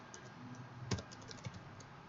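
Faint computer keyboard typing: a few soft scattered keystrokes, one sharper tap near the middle, over a quiet background, no speech.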